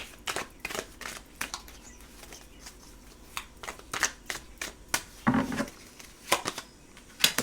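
Tarot cards shuffled by hand, soft papery slaps and riffles in an irregular rhythm, close and fairly quiet in a calm room.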